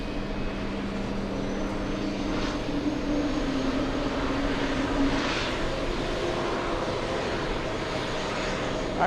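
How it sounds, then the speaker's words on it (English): A Lufthansa Airbus A340-600 passes on its way back to JFK, a steady, fairly distant jet roar holding an even level throughout, with a low engine tone drifting slightly in pitch and no voices. "Let's go over to Lufthansa, the Germans. A340-600 flying back to JFK."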